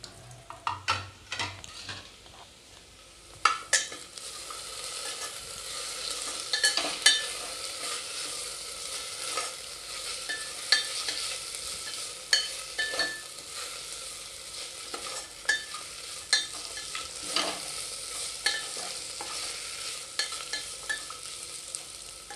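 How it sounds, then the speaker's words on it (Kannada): Ginger garlic paste sizzles in a hot pan while a spoon stirs and scrapes it, making repeated sharp clinks over a continuous frying hiss for over twenty seconds. "ನೋಡಿರಿ ಈ ರೀತಿ ಫ್ರೈ ಆಗಬೇಕಿದು."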